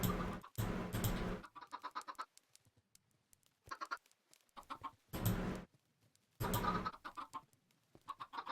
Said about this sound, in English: Let's get them chickens caught again.